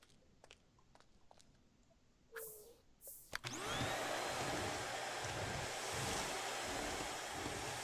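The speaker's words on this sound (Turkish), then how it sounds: "Süpürgenin sesini sevdim." A vacuum cleaner in The Sims 4 Bust the Dust kit game switches on with a few clicks, then runs as a steady loud whooshing hum that lasts to the end.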